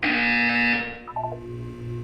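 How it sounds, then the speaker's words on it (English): An electronic buzzer from the video game Portal, a loud, steady, harsh tone lasting under a second, followed by quieter low electronic tones, with no voices. "When you hear the buzzer, look down at the floor."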